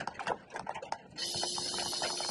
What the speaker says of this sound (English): if I push this control away from me, then that washes and wipes the back window